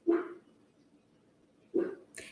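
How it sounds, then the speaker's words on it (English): Two short, single barks from a dog, spaced well apart and fairly close, with a brief faint sound after the second. "I don't know what she's barking at"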